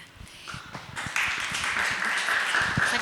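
Applause from a seminar audience, scattered claps at first that swell into steady clapping, moderately close and without speech over it.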